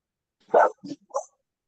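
Three short barks from a dog indoors, one louder bark followed by two softer ones in quick succession, close by against otherwise quiet surroundings.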